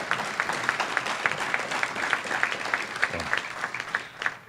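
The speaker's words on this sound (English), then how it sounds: "It says pause here for applause" An audience at a NOAA closing session applauds, a dense, even patter of many hands clapping that holds steady for several seconds with no one speaking over it.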